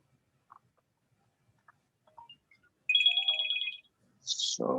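A phone ringtone chirps in a rapid melodic burst for roughly a second, with faint clicks before it and a louder unrelated noise right after. The call is unwanted junk.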